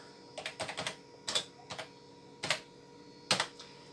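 Someone types on a computer keyboard on a Z80-based CP/M computer setup, short bursts of close clicking keystrokes separated by brief pauses, quiet and without any voices.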